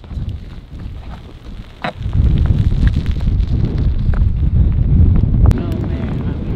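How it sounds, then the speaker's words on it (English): Strong coastal wind at La Push roars across the microphone, growing louder and more constant after the first couple of seconds, while a voice is briefly heard. "Oh man, it's windy."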